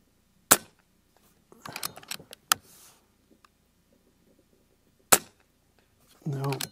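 An Avenge-X Classic .177 air rifle fires JSB slugs at steel targets 100 yards away: two sharp, isolated shots several seconds apart, with faint clatter and handling noises between them and a short voice at the end.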